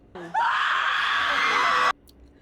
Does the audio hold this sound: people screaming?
yes